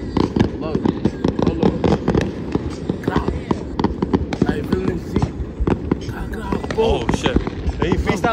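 Fourth of July fireworks and firecrackers crackle and pop in dense, rapid bursts nearby, loud and continuous throughout, while people's voices come through faintly under the bangs.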